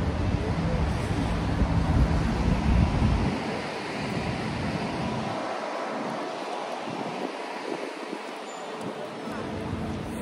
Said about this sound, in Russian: Вот ветер вообще, конечно, пипец.